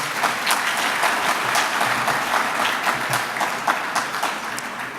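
A banquet crowd claps for a high school boys' sports Coach of the Year at a regional all-star gala: steady, close applause with a few sharper individual claps standing out from the mass.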